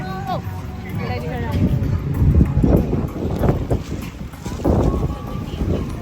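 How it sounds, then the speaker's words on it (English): Gusty wind buffets the microphone in rough, uneven rushes outdoors at Disney Springs, with a voice speaking faintly underneath. "It is very windy. Super windy today."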